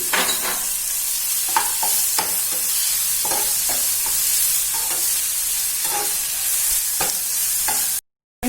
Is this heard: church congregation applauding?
no